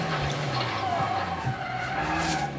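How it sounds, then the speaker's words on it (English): Rally car tires skid and squeal loudly on a stage in Assetto Corsa Rally, over a droning engine, with a co-driver's voice calling pace notes underneath. "Listen to the tires as well."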